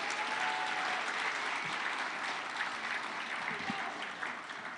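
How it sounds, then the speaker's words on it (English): A large conference audience applauds in a dense, steady wash of clapping that holds at an even level throughout, with no voices standing out. "A big round of applause."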